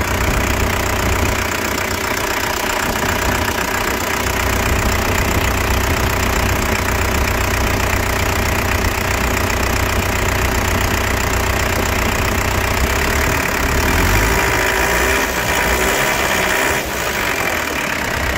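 A truck's diesel engine, fitted with an electronic turbo, idles steadily at close range with a deep, continuous rumble and an even knocking pulse throughout, loud and unbroken, with no talking.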